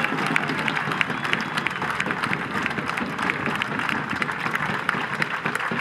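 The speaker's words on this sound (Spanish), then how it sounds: "por lo que también pido un aplauso fuerte" Sustained crowd applause at a political rally for Juan Grabois and the Proyecto Artigas, dense clapping with scattered cheers filling the whole stretch at steady volume.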